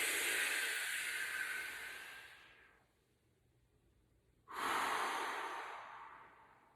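Slow, deep breathing during a fascia exercise: a long audible exhale that fades, a quiet pause, then a sharp, strong inhale heard up close with no talking.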